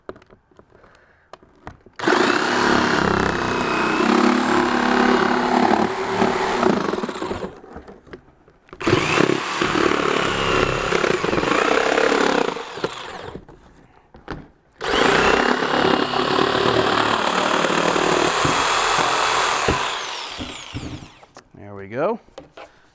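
Saw blade cutting a section out of a helmet shell in three long loud buzzing bursts separated by short pauses, then a brief rattle at the end.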